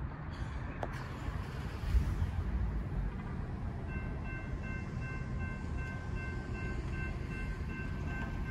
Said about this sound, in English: Sounds like freight locomotives, maybe a westbound BNSF manifest freight.